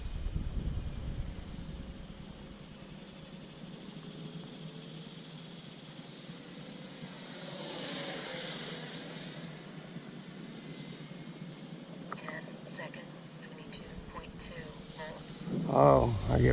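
A Freewing A-4E/F Skyhawk 80mm electric ducted-fan RC jet whooshes overhead in a faint, rising and fading whine as it passes, with wind noise and brief voices near the end.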